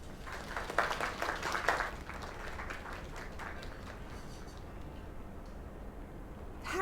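Applause rises from a small in-game crowd at a bar in the video game Lake, fairly soft and slightly distant, with claps peaking early and then fading into a steady low background murmur.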